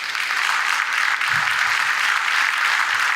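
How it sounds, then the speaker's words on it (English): Applause from the audience at the first Middle East Vegetarian Congress in 2010 as a guest is invited on stage. A steady, even roar of clapping fills the hall, with a brief low thump partway through. "A round of applause."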